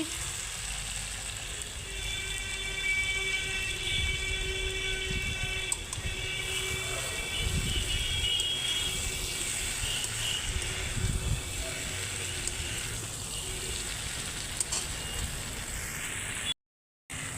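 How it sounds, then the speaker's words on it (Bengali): Fried potatoes, pointed gourd and prawns sizzle in cooked-down masala with released oil in a pan over a clay stove, a steady close hiss with soft stirring scrapes running throughout at fairly even loudness. "এখন আমি দিয়ে দিচ্ছি ভেজে রাখা আলু পটল আর চিংড়ি মাছ একসঙ্গে দিয়ে দিচ্ছি"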